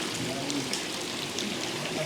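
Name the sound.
flowing stream water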